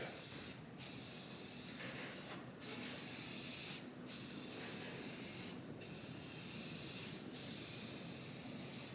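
Spray paint hisses continuously from an aerosol can as a coat goes onto shelves, a steady, fairly quiet spray broken by five brief pauses at regular intervals.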